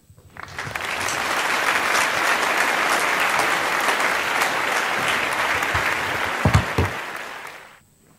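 Sustained, loud applause from an awards-ceremony audience greeting the winner, rising quickly, holding steady as a dense wash of clapping for several seconds, then fading out at the end.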